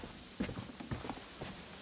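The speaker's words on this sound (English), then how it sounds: "That was us walking up the stairs." Footsteps climbing stairs in the video game The Quarry, a few soft, irregular thuds over quiet background ambience, sounding almost like hooves.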